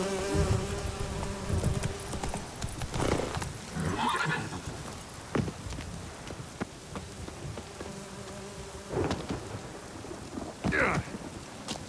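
Roach the horse in The Witcher 3 gallops with steady hoofbeats, several loud whinnies and neighs breaking through, over a bed of rain and thunder.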